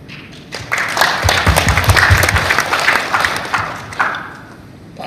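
Audience applause at a provincial government technical workshop in NTT: a dense, steady burst of many hands clapping that swells, holds for a few seconds, then thins out near the end.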